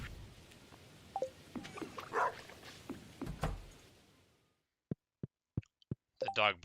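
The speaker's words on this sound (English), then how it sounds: "Dog barks happily because he knows I'm about to brew a bunch of espresso" A dog in Stardew Valley barks in a few short, faint yips over soft game ambience, followed by a quiet gap and a run of sharp clicks and chimes.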